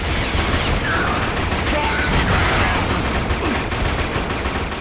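Dense gunfire and explosions from the PlayStation 2 shooter Killzone, a steady loud barrage of rifle shots and booms with a voice speaking over it.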